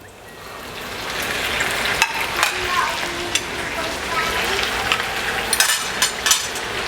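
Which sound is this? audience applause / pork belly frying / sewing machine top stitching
pork belly frying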